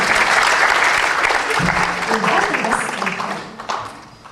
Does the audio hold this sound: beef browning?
no